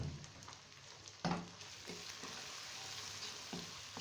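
Spices frying for aloo keema sizzle steadily in a pan, close but soft, with a few sharper stirring clatters against the metal and no talk.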